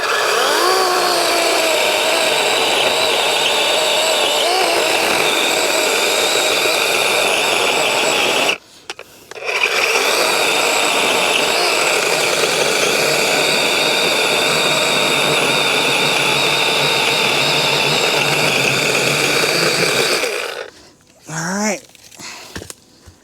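A battery-powered chainsaw cutting up a felled tree gives a loud, sustained whine that holds for long stretches, broken by one short pause near nine seconds and stopping near twenty seconds, with a little talking after it.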